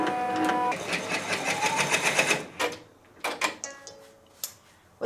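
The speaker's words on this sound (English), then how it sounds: "This will be the batting placement stitch." A multi-needle embroidery machine sews a batting placement stitch, giving a fast, steady mechanical rhythm for about two and a half seconds before stopping, followed by scattered clicks and faint handling sounds.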